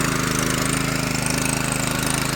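A ploughing machine engine runs in a paddy field, giving a steady, loud, rapidly pulsing mechanical drone that holds an even rhythm throughout with no voices.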